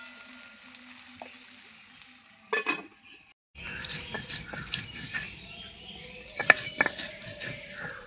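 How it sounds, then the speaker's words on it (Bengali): Potato and egg curry frying with salt and turmeric in a pan, a soft steady sizzle with a few stirring clinks and scrapes, quiet and close throughout. "এই যে হলুদ দিয়ে ভালো করে নেড়ে চেড়ে এটাকে লাল লাল করে আমি ভেজে নেব"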